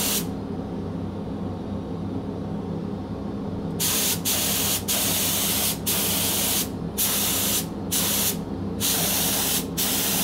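An industrial conventional spray gun hisses in bursts after a low background hum, several loud sprays of coating starting and stopping in quick succession, close by.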